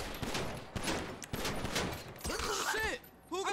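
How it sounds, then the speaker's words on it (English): Gunfire in the video game GTA Online, with several sharp bursts of shots amid game sounds and chirping effects, moderately loud and partly overlapping. "Shit, Clarence been shot!"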